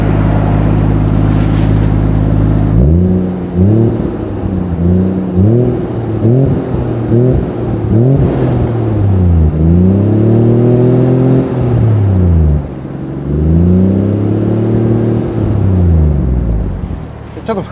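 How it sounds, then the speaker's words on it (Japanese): A Toyota Chaser Tourer V JZX100 exhaust settles into a deep steady idle, then rises and falls through a series of quick, loud blips, recorded close with wind buffeting the mic. "マフラー音いきますか？ はい。 はい。 でこれが今アイドリングの状態ですね。"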